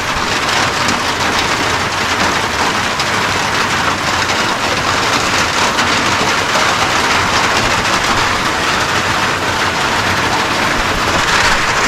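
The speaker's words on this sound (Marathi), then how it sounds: "आता पाऊस पडायला सुरुवात झाली" The first monsoon rain of the season in Konkan falls continuously, a dense broadband hiss of drops on surfaces with no pauses and no voices.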